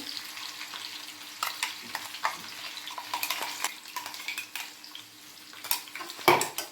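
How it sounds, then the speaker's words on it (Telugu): A ladle scrapes and stirs through a thick, sizzling stuffed brinjal and onion curry in a pot, with irregular clanks against the metal and a steady low frying hiss throughout. "వేసేసి మనం ఇలా గెంటితోటి కాస్త ఇలా కదుపుతామండి"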